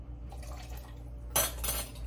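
Water poured into a cooking pot holding beef, a brief splashing burst after a quiet, low-humming kitchen lull, with faint clinks of the pot.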